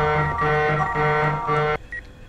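A harsh, steady electronic alarm blares in the horror video game Erie, pulsing in short repeated bursts before cutting off abruptly, followed by a faint beep.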